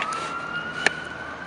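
An ambulance siren wails at a distance after a fireworks display, a steady tone holding faintly over the outdoor background throughout.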